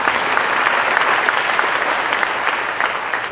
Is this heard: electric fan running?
no